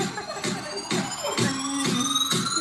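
An ambulance siren wails in repeated rising sweeps, loud and close, with a steady high tone running underneath.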